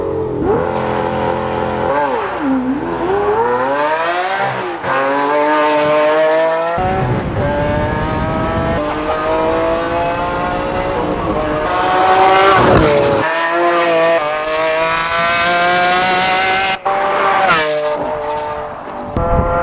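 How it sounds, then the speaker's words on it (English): A Lamborghini Aventador with an FI exhaust, a Liberty Walk build in Salt Lake City, revs hard and loud, with rising and falling engine pitch, sharp throttle blips and a roaring crescendo, close up and with no talking. "his all-time favourite modification on any car is the FI exhaust on his first Aventador"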